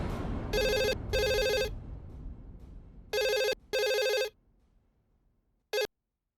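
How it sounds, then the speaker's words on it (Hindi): A home landline telephone rings in four loud electronic bursts grouped in two pairs, followed by a brief final chirp, with a quiet room and no voices in between. "राज जी, आपने घर के फोन पर फोन क्यों किया?"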